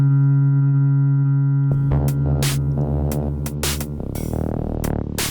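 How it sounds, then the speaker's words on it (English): Bass synthesizer pedal fed tones from cut and paste scratch records: a steady droning buzzy tone that turns into throbbing, wobbling synth bass with sharp scratchy bursts, loud and close, no talking. "Here we've got a bass synthesizer pedal and we're sending tones from cut and paste records out into the bass synthesizer pedal"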